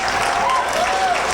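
Steady applause from an audience at the Miss Amador pageant fills the whole moment, dense and even, with a faint tonal sound drifting underneath.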